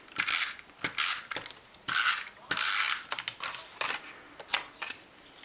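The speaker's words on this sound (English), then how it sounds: "And I find it works really well, better than the other corner rounders that they've had." A corner rounder punch bites through paper corners with crisp mechanical clicks and short crunching presses, several in a quick irregular series, near and fairly loud with no voices.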